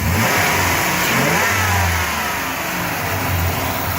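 A 2002 Dodge Grand Caravan Sport's 3.3-litre V6 runs under the open hood, a close, loud, steady engine hum with slight rises in pitch like light revving, and no voices.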